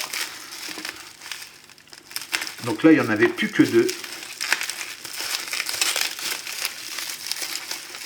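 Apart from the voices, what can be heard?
opening a package, crinkling packaging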